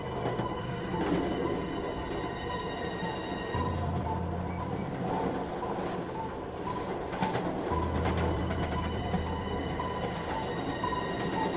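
A train runs as a horror story sound effect: steady low rumble of a moving train with rhythmic clacking and occasional metallic squeal, continuous throughout with no voices.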